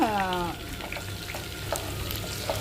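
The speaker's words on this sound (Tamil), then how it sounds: "நம்ம பொடி பொடியாக கட் பண்ணி வச்சுருக்க பச்சை மிளகாய் சேர்த்திடலாம்" Finely chopped green chillies sizzle steadily in hot oil for a Chettinad karunai kilangu masiyal, a continuous close frying hiss with a brief tonal squeal at the start and a few light clinks of a spoon.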